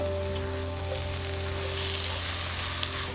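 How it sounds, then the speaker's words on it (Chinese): Shrimp heads and shells with fish fins and bones stir-fried in a hot wok with onion, a steady close sizzle and crackle of frying throughout, with no talking. "倒入虾头、虾壳，翻炒出鲜味。 再加入鱼鳍和鱼骨"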